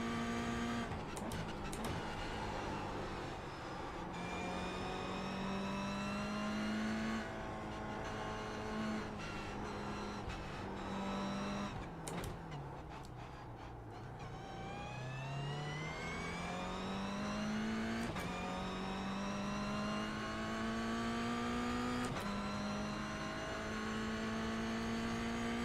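A Toyota GR86 lapping a circuit, its engine droning loud and close from the cabin as revs climb steadily through the gears, with brief dips at each shift and a lift-off before building again, no talking.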